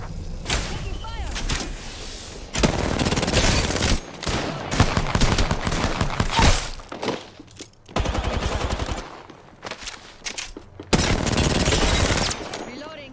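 Gunfire in Apex Legends arena combat: loud, close automatic bursts with several rapid sustained strings broken by short pauses. A few heavier thuds sit between the volleys.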